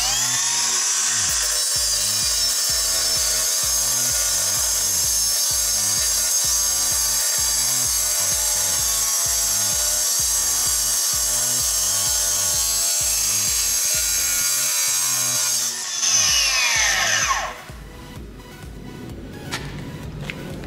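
A DeWALT power saw cuts through wood on a ten-storey building construction site, a loud, rhythmic rasping stroke repeating steadily for many seconds before the blade stops and winds down.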